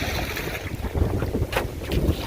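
Gusty wind buffets the microphone while canoeing on Long Lake, with a steady low rumble and soft water wash swelling and easing throughout.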